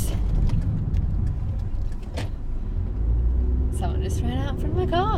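A car's engine rumbles steadily from inside the cabin while driving to work, with a low continuous drone and a brief burst of voice near the end.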